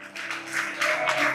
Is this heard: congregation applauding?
yes